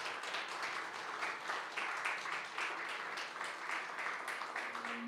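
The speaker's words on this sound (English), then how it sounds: "let's all give a good big round of applause to David Camerling Smith" A lecture audience claps in a warm round of applause, a dense, even roar of many hands close by that carries steadily to the end, with a faint tonal hum appearing at the close.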